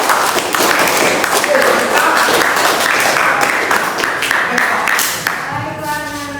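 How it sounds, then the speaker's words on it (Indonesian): Pupils in a school classroom clap for a group after its discussion presentation, a dense, lively patter of many small hands that keeps going for several seconds and then thins out as a voice starts talking near the end. "beri tepuk tangan untuk kelompok 2"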